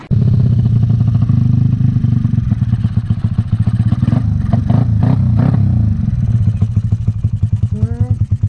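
A Raider FI motorcycle fitted with an aftermarket exhaust pipe idles loudly and close, its rapid throbbing pulses punctuated by several sharp revs, with someone briefly speaking near the end.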